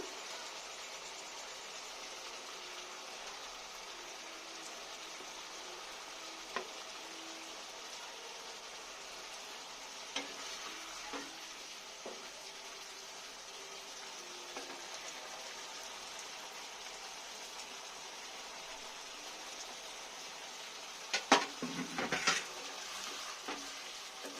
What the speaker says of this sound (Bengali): ভালো করে একটুখানি মাছ দিয়ে ভালো করে মশলার সাথে মিশিয়ে নিলাম।